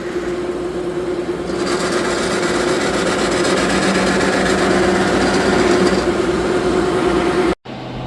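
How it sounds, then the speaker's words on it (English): Grinding whir of a grindstone run across the knives of a hay mower to sharpen off rust, a steady high mechanical drone that rises and holds for several seconds before briefly cutting out near the end. "So the knives turn the other way, then we run a grindstone across the top."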